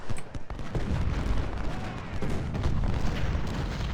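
Cannon fire across a Civil War battlefield in the strategy game Ultimate General: Civil War, during the Second Battle of Winchester, with dense overlapping booms and gunfire rumbling continuously at moderate distance, steady and unbroken throughout.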